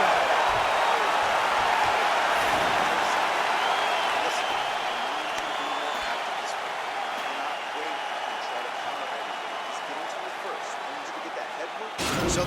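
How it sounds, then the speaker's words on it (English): A virtual crowd in the UFC 4 video game cheers and applauds after a round, a steady, broad wash of arena noise that fades slightly over time. "So the crowd voicing its appreciation after that round"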